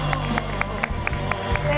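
A studio audience claps for the young cast of a Greek television show, a steady crowd applause with crisp rhythmic claps beating in time under a voice.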